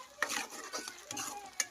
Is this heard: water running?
no